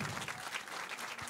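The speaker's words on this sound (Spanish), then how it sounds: "un tremendo aplauso" An audience at a talk on the importance of being digital at the CONECTA event breaks into a short burst of applause, dense overlapping claps, fairly faint and brief.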